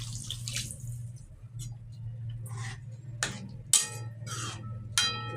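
Water is poured into a pot for chicken soup in a home kitchen. Several short splashing pours come and go over a steady low hum, fairly close and moderately quiet, with no talking.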